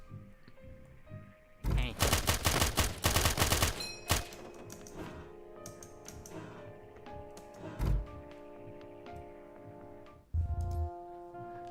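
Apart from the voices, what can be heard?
SMG gunfire in a video game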